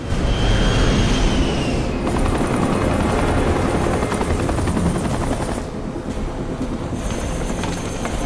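A rescue helicopter takes off in a war film, its loud rotor chop pulsing steadily and densely throughout, with a rising turbine whine early and a shift in tone partway through.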